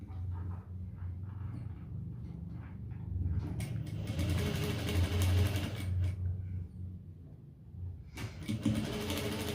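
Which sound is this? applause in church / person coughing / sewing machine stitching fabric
sewing machine stitching fabric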